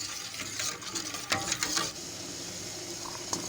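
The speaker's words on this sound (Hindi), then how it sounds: "इसे चमचा चलाते रहना है और गाढ़ा होने तक पकाना है" A spoon steadily stirs carrot juice and sugar cooking into homemade jam in a pot, giving soft, continuous scraping and bubbling sounds close by, with a few brief louder clinks.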